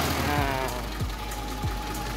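Carburetted engine of a Suzuki Vitara running close up, with a steady mechanical drone and three short blips of throttle from the carburetor, evenly spaced and without talk.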